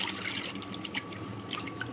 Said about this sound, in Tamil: சுத்தம் செய்த பத்திக்காயை வரும் இந்த மாதிரி நல்லா கழுவி எடுத்துக்கலாங்க சுத்தமாக